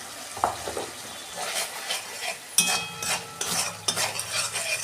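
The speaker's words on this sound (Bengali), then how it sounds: "ভালো করে আমি কষাবো" Spices with coriander powder sauté in a pan for vegetarian ghugni, with a moderate sizzle broken by repeated scraping stirs and metal utensil clinks at close range.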